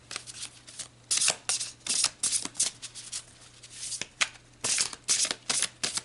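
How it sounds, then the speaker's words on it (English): Tarot cards being shuffled and drawn, a run of crisp riffling bursts and sliding card swishes in quick repeated pulses, close and clear with no talking. "Let's pull you some more cards to clarify these further."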